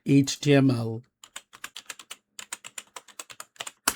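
A computer keyboard is typed on while creating an HTML file, in a quick run of crisp, separate key clicks after a brief voice at the start.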